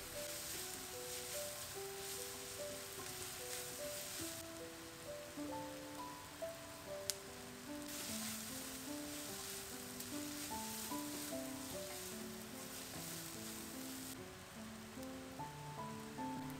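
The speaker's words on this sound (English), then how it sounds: "To a thick bottom pot, add some oil, diced onions and saute until they turn translucent." Diced onions sauteing in oil in a thick-bottomed pot, a soft, steady sizzle and crackle running throughout, fairly faint beneath background music.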